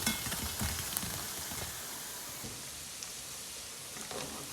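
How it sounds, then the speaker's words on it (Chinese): Lotus root balls deep-fry in oil over medium-low heat, a soft continuous crackling sizzle with light spatter pops, fairly quiet and steady, briefly busier near the start. "要想吃酥脆一点的，用中小火慢炸，再炸个1分多钟"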